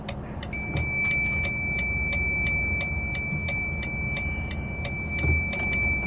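A truck's indicator warning beeps high and electronic, steadily about once every half second over the HGV's constant low engine rumble, close and persistent, inside the cab.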